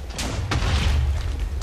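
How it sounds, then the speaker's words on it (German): Shots firing in a Minecraft Hypixel party minigame, video game sound effects heard as a couple of sharp bursts over a loud, low rumbling boom that stays near and fills the moment. "die Schüsse werden natürlich immer schneller"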